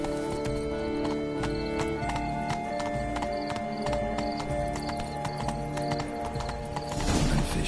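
Horse hooves clip-clop in a steady walking rhythm in The Witcher 3: Blood and Wine, close and continuous, with a brief whinny and a rustle of movement near the end.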